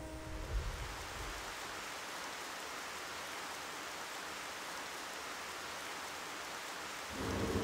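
Rain and thunder in Xenoblade Chronicles Definitive Edition: a loud steady downpour hiss with a rumble of thunder early on and another low rumble swelling at the close.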